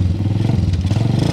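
A Racal 150 Sport Trail motorcycle engine revs aggressively up close, with a loud, steady pulsing rumble and some mechanical clatter throughout the short burst.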